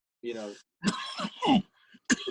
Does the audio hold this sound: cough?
yes